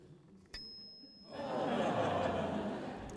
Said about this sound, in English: this bell isn't the loudest one